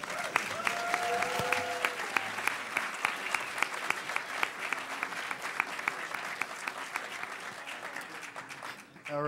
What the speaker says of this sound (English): Applaud for yourself and your potential.